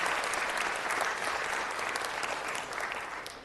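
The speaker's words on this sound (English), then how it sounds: "So please, a big round of applause for our athletes." Applause for student athletes at a city council meeting, a crowd clapping steadily at a moderate distance and slowly fading toward the end.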